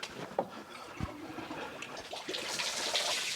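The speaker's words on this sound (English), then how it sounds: "Turn on the hose, flush it through." Water from a garden hose flushes through the heater system of a VW Golf mk2/mk3 during oil cooler work, a soft, close rushing and gurgling with a few small knocks.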